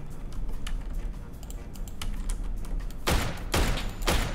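A new gun firing in a video game: soft clicking and background game noise first, then a few loud, sharp shots in quick succession near the end.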